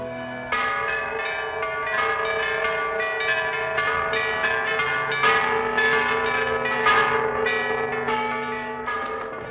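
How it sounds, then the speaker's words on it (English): Church bells ring out in a period film set in France, tolling the hour of a wedding: several bells strike overlapping peals with long ringing decay, continuous and fairly loud, with no voices over them. "What are those bells? They toll the hour of marriage."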